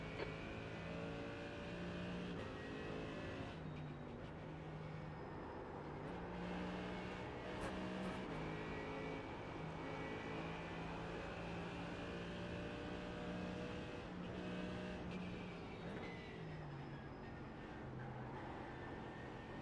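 Racing simulator at Spa: a continuous high engine whine from race cars on track, with pitch rising and falling through gear changes and another car passing close by, steady and loud throughout.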